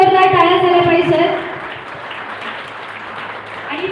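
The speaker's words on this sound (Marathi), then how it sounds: "एकदा या टीम साठी सुद्धा जोरदार टाळ्या झाल्या पाहिजे" Crowd applause at a live Marathi song launch event, a broad steady wash of clapping under a voice speaking over it at first, then continuing alone at a lower level.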